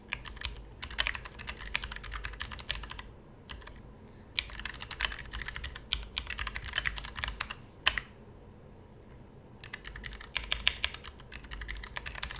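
Rapid bursts of keystrokes on a computer keyboard while writing C++ code, close and crisp, with short pauses between runs of typing and no talking.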